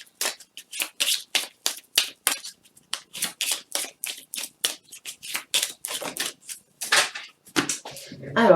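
Oracle cards being shuffled by hand, a close, crisp run of quick riffling bursts in a steady rhythm, with a short spoken moment near the end.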